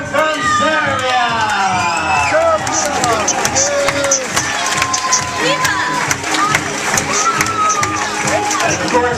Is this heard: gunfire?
no